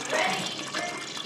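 Tea concentrate pouring into a jar, a steady close splashing and trickling of liquid lasting about a second, with a voice speaking over it.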